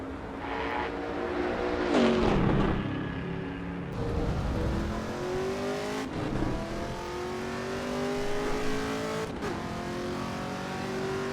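A Camaro ZL1 in the Assetto Corsa Evo racing game revs hard on track, its engine note climbing through the gears with sharp shifts and steady acceleration, loud and close with no talk.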